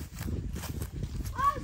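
Horses at a lasso training session clip-clop along a ground in uneven rhythm, hooves thudding close under steady talk, with a brief whinny-like tone near the end.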